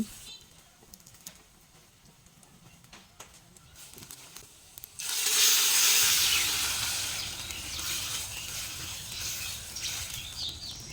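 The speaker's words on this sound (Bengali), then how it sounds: "তেলটা গরম হওয়ার পর দিয়ে দিচ্ছি থেতু করে রাখা পেঁয়াজ আর রসুন" Crushed onion and garlic hit hot oil in a clay pan during a rustic village winter-morning cook, a sudden loud sizzle erupting midway after quieter ambient rustling and then hissing steadily.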